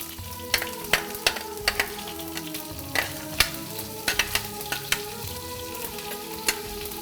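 Green chillies sizzling as they hit a hot pan with sesame seeds, a steady fry punctuated by sharp spattering pops and stirring clicks at irregular intervals, close and clear.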